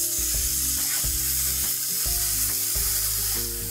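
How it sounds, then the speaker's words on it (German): Scallops searing on both sides in a hot pan, a loud continuous sizzle and crackle heard close up with a steady hum underneath, no voices. "Wir braten die Jakobsmuscheln jetzt von beiden Seiten bei ordentlicher Hitze an, damit sie ein bisschen Farbe annehmen."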